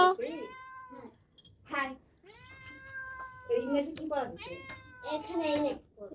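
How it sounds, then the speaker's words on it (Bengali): A neighbour's cat that wandered indoors meows repeatedly, a series of drawn-out rising and falling calls, some short and some long, close by in a quiet room. "মানুষের বাসা থেকে ম্যাও করে চলে আসছো কেন"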